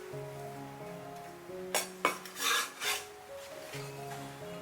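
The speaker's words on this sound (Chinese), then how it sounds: "再来切一些芹菜" A knife slices through celery in a handful of short rasping strokes on a cutting board, clustered near the middle, over a soft tonal background.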